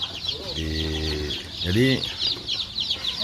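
Free-range village chickens clucking and calling at feeding time on a small farm, several close, short harmonic clucks and calls, with outdoor background noise throughout.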